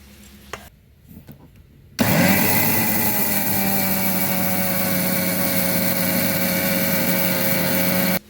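A mixer grinder powders chickpea flour and oats for a homemade nutritious powder. After a couple of quiet seconds it starts abruptly with a loud, steady, high whirring roar that holds for about six seconds, then cuts off.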